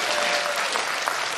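An audience at a live show in Toronto breaks into loud, dense applause, a brief burst of many hands clapping together.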